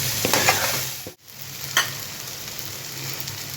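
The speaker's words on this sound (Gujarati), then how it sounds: "પહેલાં બધું મિક્સ કરીશું" Mashed raw banana is stirred into a sizzling pav bhaji mixture in a pan, giving a close, steady frying hiss with a couple of spatula scrapes and a brief dip in sound partway through.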